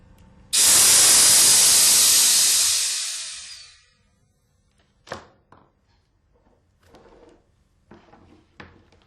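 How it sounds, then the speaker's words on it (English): A sharp burst of compressed air hisses loudly from a valve for about three seconds, then tapers off, followed by a few brief metallic clicks and handling knocks. "Release compressed air."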